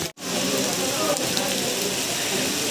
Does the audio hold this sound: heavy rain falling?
yes